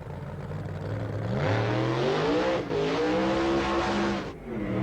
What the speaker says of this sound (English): Big burnout there for Stephen Reed.